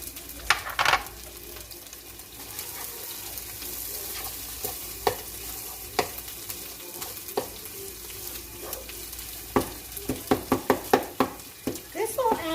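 Medium chorizo fries in a pan with a soft continuous sizzle, punctuated by frequent close clacks and scrapes of stirring, brisk toward the end.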